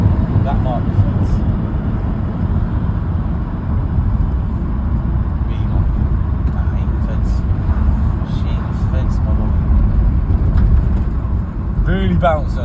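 A rebuilt VW T4 2.5 van with a 270bhp engine, driven along a road, gives a steady, loud engine drone and road rumble throughout, with a person talking over it.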